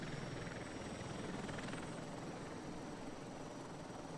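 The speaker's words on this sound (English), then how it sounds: "So these are our little helicopter maneuvers here." A flight simulator helicopter hovers and maneuvers, giving a steady, continuous rotor and engine drone that holds even and moderately loud throughout, with no voices.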